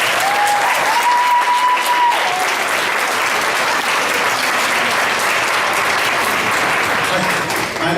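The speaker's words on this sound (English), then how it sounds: "will you give them a round of applause?" Crowd applause for students who served as tour guides and hosts at a school mural dedication, loud sustained clapping with a brief whistle-like tone near the start.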